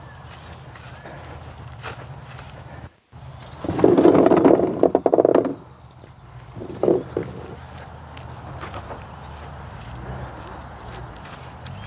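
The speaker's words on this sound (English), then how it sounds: "The wind is really strong left to right now, really strong" Strong wind gusts across an open golf driving range, a steady low roar with heavier buffeting bursts and a few brief thumps.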